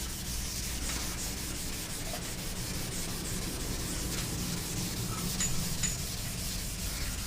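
Fine-grit sandpaper rubbed over a painted panel in continuous back-and-forth strokes, a steady soft scratchy hiss throughout, close and alone.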